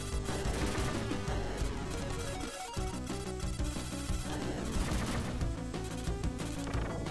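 Auto-fire shots in the shmup Gleylancer, a dense, steady, rapid stream of blaster fire mixed with music and explosion effects, continuous at moderate loudness without any talking.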